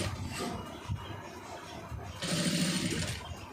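Sewing machine stitching a neck piece for a garment, a steady mechanical whirr that runs loudest through the second half after a quieter stretch of handling.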